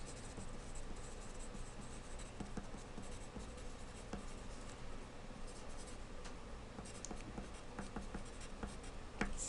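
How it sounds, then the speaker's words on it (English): Pen or pencil scratches across paper as notes are written during a lecture, a faint steady scribbling under a constant hiss of room noise, with no talking. "I should write that down"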